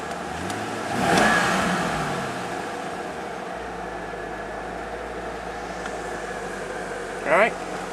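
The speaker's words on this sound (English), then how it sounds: "we'll go ahead and get in, rev her up a couple times." A 2002 Chevrolet Corvette C5 convertible engine revs up once in a swelling burst near the start, then settles to a steady idle, heard close with a brief sharper sound near the end.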